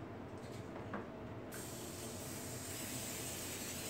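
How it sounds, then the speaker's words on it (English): Cooking spray hissing onto silicone baking tins for cheese puffs, a soft aerosol burst that switches to a steadier, brighter spray halfway through, close and fairly quiet. "It's not going to hurt to spray them"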